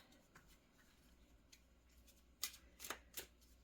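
Oracle cards riffle and slide through hands during a shuffle before one is drawn, with soft, quiet flutters followed by a few crisper snaps near the end, close but faint.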